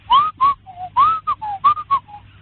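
A person whistles a lively, trilling birdlike tune in short, rapid phrases, close and clear, imitating a nightingale, with no talking.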